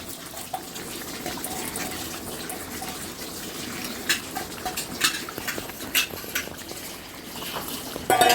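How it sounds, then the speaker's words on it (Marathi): Wada Kolam rice is tipped into a pot of boiling water for veg pulav, giving a near, continuous bubbling and watery churn with a few louder splashy bursts toward the end; no one speaks. "आता मी तांदूळ टाकणार आहे. बघा तांदूळ टाकते."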